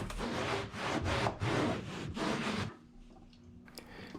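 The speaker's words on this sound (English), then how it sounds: "Use some universal cleaner, water, and good old-fashioned elbow grease to remove any dirt and grime in the area that has accumulated." A boat surface being scrubbed by hand with universal cleaner and water, about five brisk rhythmic rubbing strokes close up, followed by a quieter pause with faint handling sounds.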